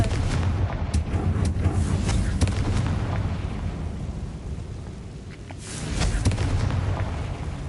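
A Confringo blasting spell goes off in Hogwarts Legacy, giving loud, booming explosive bursts over a dense rumbling game soundscape, with sharp cracks near the start and a fresh surge of blasts toward the end.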